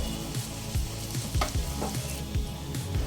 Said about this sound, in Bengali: এক টেবিল চামচ মতো দিয়ে মশলাটাকে খুব সুন্দরভাবে কষিয়ে নেব